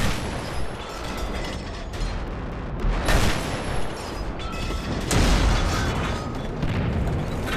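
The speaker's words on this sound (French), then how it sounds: "L'artillerie lourde et l'artillerie de campagne couvrent la retraite." Heavy and field artillery fire covering a retreat, rendered as dull booms and rumbling bursts that swell in waves over a constant roar, loud and dense with no clear gaps.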